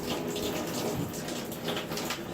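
Steady rushing water pours and gushes continuously, a broad even splash of rust-colored water draining from a 1963 Farmall Cub gas tank after electrolysis rust removal.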